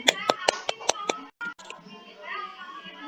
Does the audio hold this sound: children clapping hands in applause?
yes